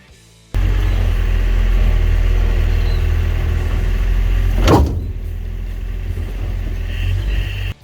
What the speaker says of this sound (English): The gearbox crossmember caught the concrete on the way down